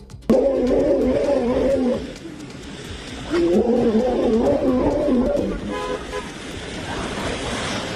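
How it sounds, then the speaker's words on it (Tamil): Wild elephants trumpeting aggressively as they charge onto a road, two loud, drawn-out blaring calls a few seconds apart, with rumbling vehicle noise beneath and no talking. "ஆக்ரோஷத்துடன் சத்தம் எழுப்பிக் கொண்டே சாலைக்கு ஓடிவந்த யானைகளை"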